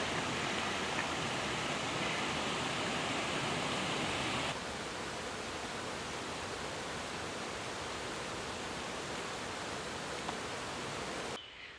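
A small creek flows beneath a road bridge on a forest trail near Sultan, Washington, giving a dense, continuous rushing of water that holds steady throughout.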